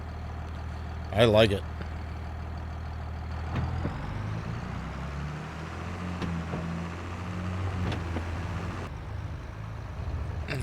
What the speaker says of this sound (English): Don't have a lot of experience running this tractor